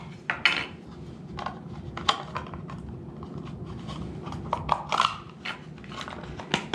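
A compact metal camping stove is folded up and slipped into its case, producing scattered light clinks and metallic taps at close range over a faint background hum.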